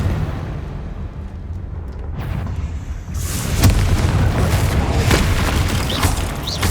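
Confringo explosion spell in Hogwarts Legacy, a deep rumbling boom that swells and lingers, followed by a few sharper bursts and crackles, loud and close.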